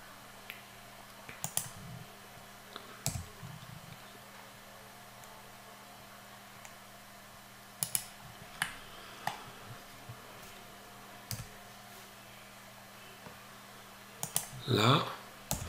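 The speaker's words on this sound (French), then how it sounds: "je clique sur le C, un clic gauche" Computer keyboard key presses and left mouse clicks at a desk while modelling a printable object in CAD software: sparse, faint, sharp clicks scattered through the clip, with a louder rattling burst near the end.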